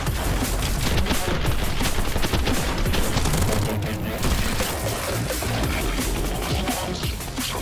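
Rapid automatic SMG fire in the video game Sprawl, dense and continuous bursts with explosive crashes mixed in, loud throughout.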